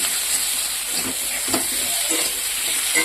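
Paste of ground chilli, cumin and a little ginger, stone-ground, frying in a pan: a steady, close sizzle and hiss throughout, with faint stirring scrapes.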